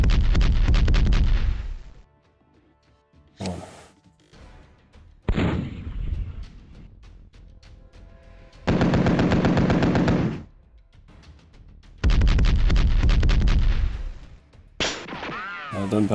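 Loud bursts of machine-gun fire and artillery from the WinSPMBT Cold War 2020 mod wargame come in several sharp volleys separated by quieter gaps, with a short echoing shot near the end.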